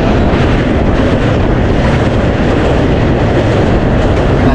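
A packed general-class passenger train on a weekend run rolls along at speed, a loud continuous rumble and clatter of the carriage with steady clickety-clack underneath, filling the whole stretch without any talk.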